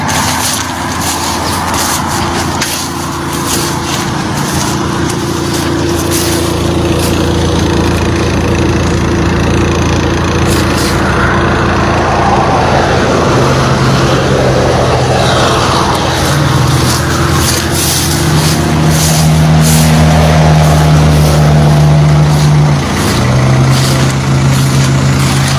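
Steady, loud engine rumble from a crashed car left running in Santa Cruz, a continuous low drone with shifting tonal hum and passing traffic noise layered on top.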